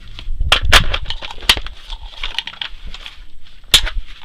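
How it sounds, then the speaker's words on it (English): A Bulgarian AK-47 magazine is rocked into a rifle's magazine well, giving a few sharp metallic clicks and clacks, with a couple of louder snaps near the start and one more near the end, close and with no talk. "Here's the mag that came with it, locks in just as good."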